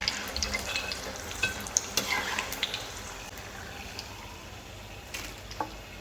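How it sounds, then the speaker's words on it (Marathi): Chana (chickpeas) fry in a pan with a soft, steady sizzle, broken by light scrape-and-stir clicks, quiet and close. "इथे मी चणा फ्राय करायला घेतलेला आहे"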